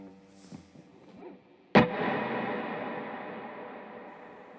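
A shimmer reverb pedal on electric guitar, with the room reverb setting kept low: quiet picked notes open it, then a sudden loud strummed chord rings out into a long, bright, shimmering wash that slowly decays on its own.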